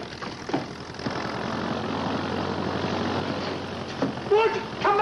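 Propeller aircraft engine droning steadily and fairly loud throughout, a continuous rumbling hum, with voices calling out over it near the end; from a 1961 film.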